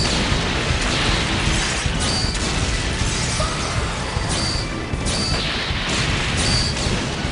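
Weapon shots and explosions from the Ultraman Mebius tokusatsu series, a dense, continuous wash of blasts and crashes that stays loud throughout, with faint pulsing tones threaded through it and no voices.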